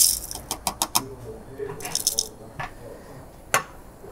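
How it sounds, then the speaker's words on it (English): Coffee beans tip into the hopper of a Travel Chef Grind Xpress grinder fixed on a tumbler, a quick scatter of hard little clicks and rattles near at hand, then a few later scattered ticks as the last beans settle. "Like so, we'll tip our beans in."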